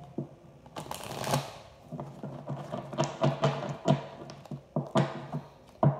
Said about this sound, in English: One more shuffle, and let's see what we got.